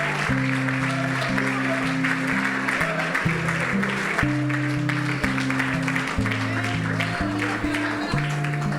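A church congregation claps in a steady wash of applause beneath sustained music, with a voice faintly present.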